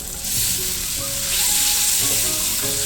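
Spice masala paste with green chillies for Bengali egg curry frying hard in oil, a loud, steady close sizzle with light stirring, no voices.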